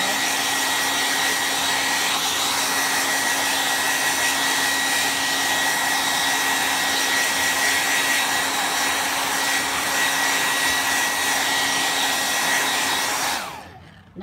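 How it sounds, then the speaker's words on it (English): Heat tool blowing hot air steadily over a freshly made leather-like cover, a loud continuous whooshing drone with a constant hum that runs uninterrupted for many seconds, then cuts off abruptly at the end. "It's my heat tool."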